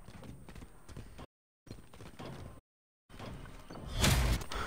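Donkey hooves clip-clop in the Modern Warfare video game in a rapid, uneven patter, broken by two brief silent gaps, then swelling louder toward the end with a heavy thump.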